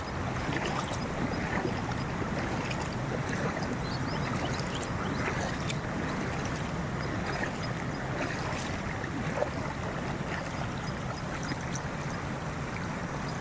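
A flooded river, swollen by an overflowing dam, pours over and under a small bridge in a continuous, even rush of water with no talking.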